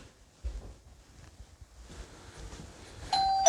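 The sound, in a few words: doorbell ringing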